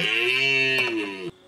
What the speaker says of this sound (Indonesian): Itu adalah suara dari rusa merah jantan.